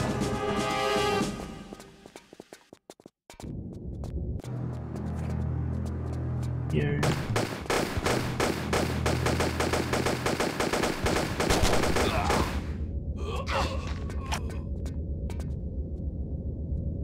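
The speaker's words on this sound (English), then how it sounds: "Equip pistols." Rapid pistol gunfire from Tomb Raider Chronicles, loud repeated shots in bursts over a steady game hum, with a short gap near the start and a talking voice present.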